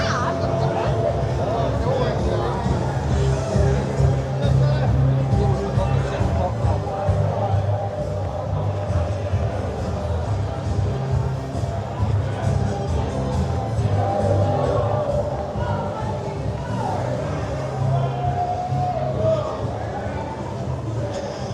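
Busy crowd hubbub fills a night-time celebration in Castletown during the Southern 100 event, a steady mass of voices and street noise close around, with nearby speech mixed into the babble throughout.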